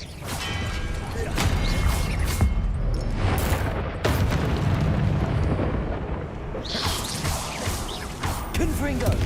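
Expelliarmus spells are cast during a Hogwarts Legacy duel, heard as repeated sharp magical blasts and crashing booms amid loud, busy combat effects, with a brief drop in the noise around the middle.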